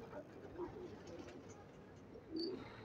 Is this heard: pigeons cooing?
yes